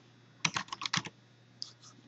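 A few quick computer keyboard keystrokes, a short burst of close clicks followed by two fainter taps, in a quiet room without speech.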